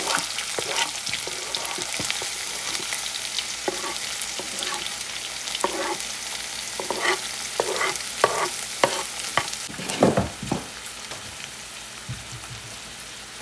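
Green chilies and onions fry in a hot pan, giving a steady close sizzle with repeated stirring scrapes and clatters, and no talking.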